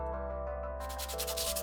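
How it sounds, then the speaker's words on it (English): Hand sanding of a 3D printed BMW hood emblem, a plastic part being smoothed. It starts with a steady background hum, then rhythmic scratchy rubbing strokes set in partway through, close and moderately loud. "I began sanding my part to make it really smooth and nice"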